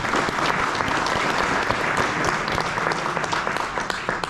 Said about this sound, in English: let's give him a round of applause as well